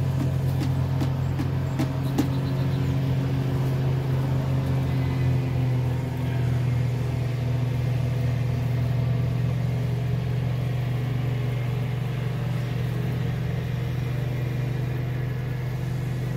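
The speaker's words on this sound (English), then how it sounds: "That is that neighbor out on his tractor." A neighbor's tractor engine runs steadily at a distance, a low constant drone and rumble that holds through the whole stretch with a few faint knocks near the start and no talk.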